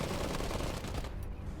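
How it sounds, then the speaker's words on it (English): Dense machine gun fire in the alternate-history WW1 strategy game Iron Harvest, a continuous rattling burst of gunfire that is loud and steady throughout, then thins out near the end. "Incoming enemy fire!"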